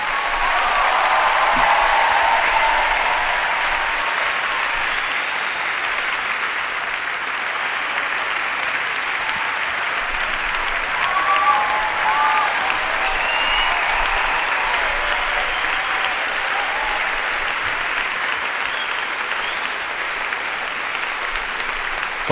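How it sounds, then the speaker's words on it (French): A large audience at a testimony gathering applauds steadily for over twenty seconds, a sustained, even wash of clapping with a few faint voices underneath. "on peut les applaudir bien fort"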